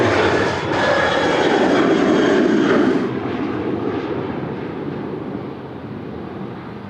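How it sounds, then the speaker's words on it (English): A Velocity airliner takes off at Sydney Airport, its jet engine thrust roaring loudly for a few seconds and then easing into a softer, receding rumble with some wind noise. "Hopefully you can hear every little bit of that thrust right there."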